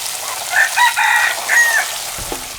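Hens clucking and a rooster crowing at a rural farmyard in Thailand, with a loud, close crow stretched across the middle and short clucks around it.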